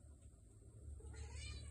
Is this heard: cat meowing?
yes